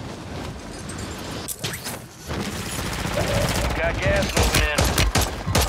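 Gunfire in Call of Duty Warzone 3 Rebirth on Ashika Island: loud rapid bursts and scattered single shots that grow denser toward the end, heard under excited player chatter.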